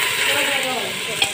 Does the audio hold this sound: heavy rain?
no